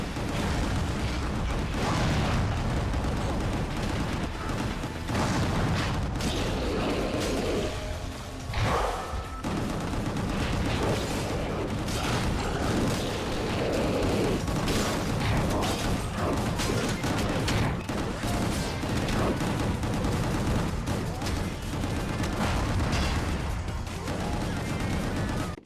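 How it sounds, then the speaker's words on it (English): Sustained, dense in-game gunfire from Gungrave G.O.R.E, a relentless stream of loud shots and booming blasts that barely lets up for the whole stretch, with brief talk mixed in. "Keep shooting, Tex."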